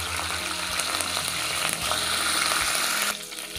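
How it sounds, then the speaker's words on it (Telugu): Cumin seeds, curry leaves and finely chopped green chillies crackle and sizzle in hot oil for a prawn fry, a loud continuous frying hiss that drops off sharply near the end. "కొద్దిగా జీలకర్ర వేసుకోవాలి, కొద్దిగా కరివేపాకు, ఒక 2 పచ్చిమిర్చి ఇలా సన్నగా తరిగి వేసుకోవాలి."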